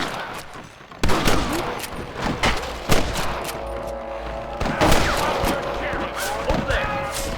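Gunfire in the Red Dead Redemption video game: a sudden volley of sharp shots followed by scattered cracks and echoing bursts, loud and close over a rumbling background.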